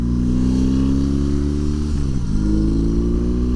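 A bagger-style motorcycle with a heel-toe shifter rides along, its engine droning loud and steady up close, with a brief dip and recovery in pitch as it shifts gear.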